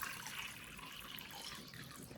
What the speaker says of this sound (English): Fill the bowl with about 1 liter of clean water